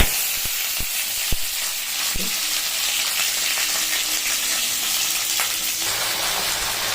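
Cumin, mustard seeds and dry and green chillies fry in oil in a kadai, a loud, steady sizzle with a few sharp pops and clinks of stirring, close up with no voices.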